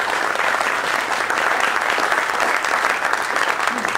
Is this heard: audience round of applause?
yes